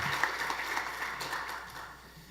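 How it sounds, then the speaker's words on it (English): A church congregation applauds its choir at a Sunday service, a steady spread of clapping that holds fairly even and fades slightly toward the end. "Let's give a big round of applause to our wonderful choir."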